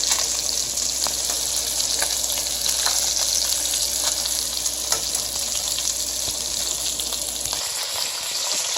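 Atlantic salmon fillets frying in butter in a pan give a steady, close crackling sizzle with scattered pops, continuous for most of the stretch before the low background cuts out near the end.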